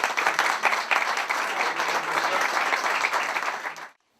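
An audience at a cultural centre event applauds warmly, a dense steady wash of many hands clapping close and loud, then cutting off abruptly near the end.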